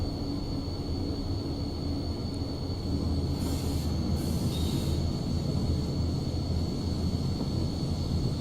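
A BR155 electric locomotive running in Train Simulator 2016 on the Hamburg–Hanover route, a steady loud rumble with a constant high whine and a brief hiss midway, heard alone.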